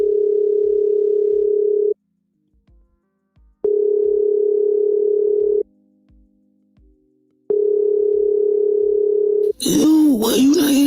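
A telephone ringback tone pulses in long, steady bursts, about two seconds on and two off, three times with no answer. Then a short burst of noisy, voice-like sound cuts in at the end.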